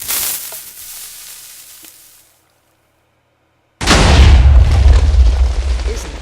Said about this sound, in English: I think we're gonna start off with some fireworks.